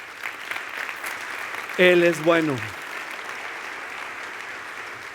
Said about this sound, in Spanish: Puedes darle un fuerte aplauso a Él.